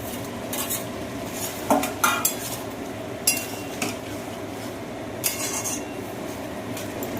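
Ridge gourd and potato with poppy seed paste are stirred in a pan. A utensil scrapes steadily, with several sharp clinks against the metal over a low background hiss.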